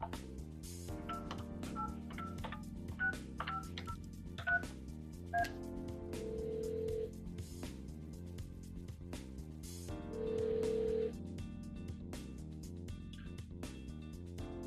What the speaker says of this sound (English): To start a conference call, place a call to your first party, then press the conference button.